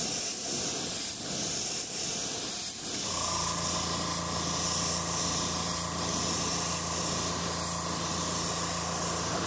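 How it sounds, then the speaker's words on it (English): A PS 290 trigger airbrush with a 0.5 mm nozzle, run at about 45 psi, hisses continuously as it sprays paint over a lipless crankbait lure, loud and close with no talking. "So I'm using my PS 290 trigger gun for this."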